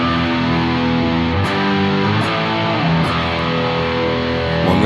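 A continuous, loud distorted electric guitar drone through a BOSS GT1000 and Mackie ProFX12v3, with sustained buzzing chords and a few subtle pick attacks, played alone without speech.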